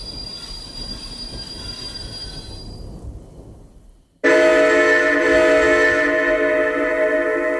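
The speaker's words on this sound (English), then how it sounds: "followed by the squeal of brakes being depressed" A train's brakes squeal shrilly as it pulls into a station on a stormy night, the sustained high-pitched screech cutting in loudly after a few seconds of steady rumbling rail noise and holding to the end.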